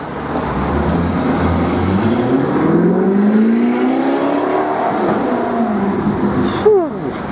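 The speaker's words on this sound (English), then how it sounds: "Don't know what it was, but nice car." A car driving past on a town street in Denbigh, a loud engine drone that rises in pitch as it approaches, sweeps past close by and fades, over steady traffic noise.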